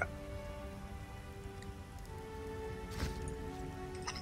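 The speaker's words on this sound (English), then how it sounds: "A wall of rain." Rain falls steadily in The Witcher video game, a faint, even wash of drops under a low tonal background with a few soft ticks.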